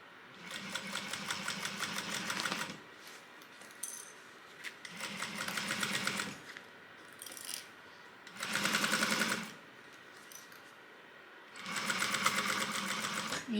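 A sewing machine stitches a seam on a crossbody bag in four quick, steady bursts of rapid mechanical whirring, separated by short quiet pauses, close and fairly soft.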